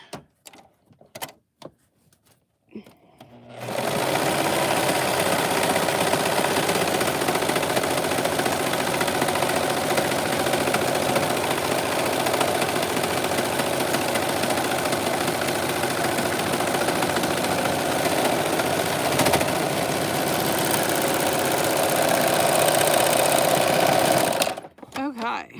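A serger sewing machine stitches a bag, starting abruptly after a few faint clicks and running in one loud continuous whirring buzz for about twenty seconds before stopping sharply.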